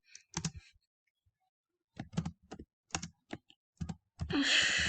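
Short bursts of typing on a computer keyboard while coding a simple dress-up project, with clusters of close clicks separated by pauses and a brief rustling noise at the end.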